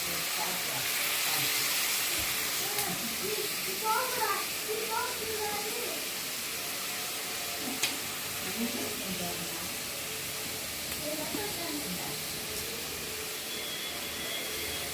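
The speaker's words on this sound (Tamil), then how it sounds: "இப்போ நம்ம வெங்காயம் நல்லா வதங்கட்டும்" Onions sautéing in a pan for okra and millet rice, with a soft, continuous sizzle and hiss heard close up while a voice speaks over it intermittently.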